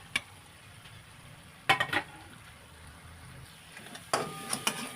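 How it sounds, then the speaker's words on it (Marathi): Spices frying gently in oil over low heat for stuffed bitter gourd, a faint quiet sizzle with a few sharp bursts of spatula scraping and stirring against the pan. "सर्व मसाले तेलामध्ये व्यवस्थित परतून घ्यायचे आणि गॅस स्लो ठेवायचा नाहीतर सर्व मसाले करपून जातात"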